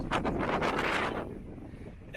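Strong wind at the Great Inagua lighthouse in the Bahamas buffets the microphone in a loud, roaring rush that eases off toward the end, with no voices over it.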